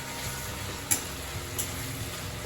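Onions frying in a pan as the base for a dhaba-style chicken dish, giving a quiet, steady sizzle with a couple of faint clicks from stirring.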